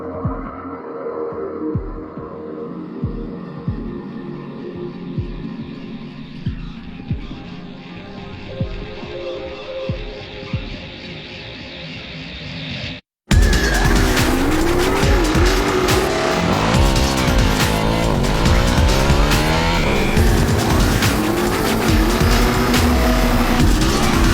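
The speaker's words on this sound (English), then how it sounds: "There's no substitute for all lining up in a line and then launching down the runway to see kind of what ends up where." Race cars launch down a runway and drift, first a dense engine roar with rapid revving, then a sudden loud burst of engines and sustained tire squeal and skidding close by.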